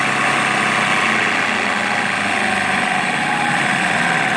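Old SUN distributor tester spinning an Oldsmobile 4-4-2 distributor, a steady close mechanical hum and whir holding an even pitch throughout.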